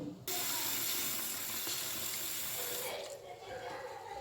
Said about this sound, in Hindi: थोड़ा सा और डालेंगे सादा पानी।